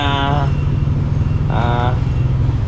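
A Yamaha Aerox 155 scooter with a zero-mileage odometer idles steadily nearby in a low, even hum, with someone talking over it.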